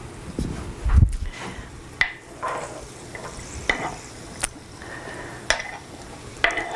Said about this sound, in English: I just wanted to show you how to cut it and place it into the pan to just brown